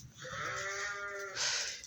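Sheep on a farm in Antalya bleat continuously, one long wavering cry joined by a second, brighter voice near the end, close and loud with no talking.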